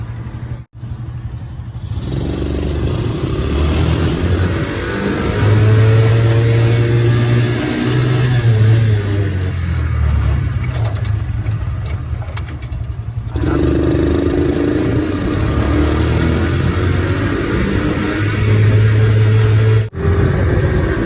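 A small 110cc engine on a motorized three-wheeler idles and revs repeatedly, rising and falling in pitch with some rattling, close by and loud, with no voices.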